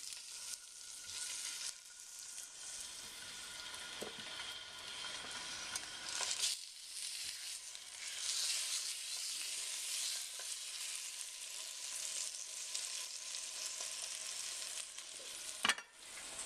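Seasoned tilapia fillets sizzle steadily in a Copper Chef pan, a continuous bright hiss and crackle that fills the background, with a brief sharp clatter near the end and no voices.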